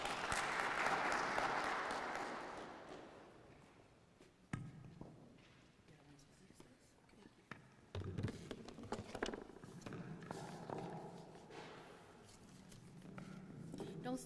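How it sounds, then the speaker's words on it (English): A conference audience applauds to welcome a presenter, loud sustained clapping over the first few seconds that fades into quieter room noise, scattered knocks and a voice talking. "Let's give a round of applause to welcome her."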